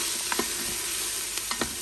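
Onion sautéing in an Instant Pot gives a steady, close sizzle with a few quick stirring scrapes, and no one speaks.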